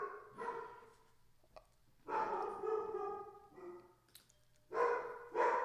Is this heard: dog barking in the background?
yes